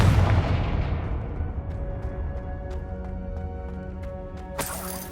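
A Confringo fire spell explodes in the video game Hogwarts Legacy, opening with a loud, heavy boom that rumbles away into a ringing tail. Faint ticks follow, then a sharp crackle near the end.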